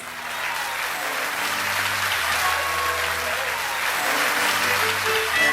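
A concert audience applauds steadily after a huayno performance, the dense clapping lasting throughout with light crowd noise and faint sustained tones underneath.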